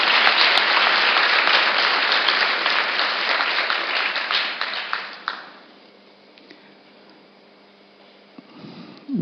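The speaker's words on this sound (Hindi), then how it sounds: "उसके जोर से ताली" Loud, dense applause from a large audience at a spiritual talk fills the first five seconds, then fades into a quieter room with scattered sounds.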